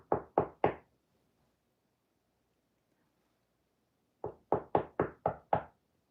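Sharp knocks on a door: a quick series of three, a pause of silence, then a faster run of six close, loud raps.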